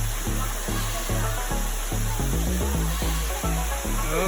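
Madakaripura waterfall in Probolinggo roars as a loud, steady rush of falling water, with a low rhythmic pattern running beneath the broad noise.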